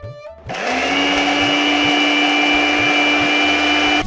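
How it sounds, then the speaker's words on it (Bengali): Kitchen mixer grinder starts up and whirs loudly at a steady high pitch as it blends cooled ingredients for Bengali labra, a vegetarian mixed-vegetable dish, with a rhythmic low thumping beneath the whine. "এবার এটাকে দিয়ে দিব মিক্সিতে"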